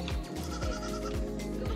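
A goat in a pen in a poor rural region of China bleats close and loud, a sustained quavering cry with several pulsing breaks.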